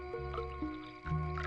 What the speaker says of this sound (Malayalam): വെള്ളം ഒഴിയടാ.